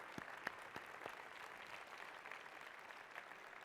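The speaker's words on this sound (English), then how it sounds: "Another round of applause." Faint applause from an audience, a steady patter of many hands clapping at a distance, with a few sharper claps standing out.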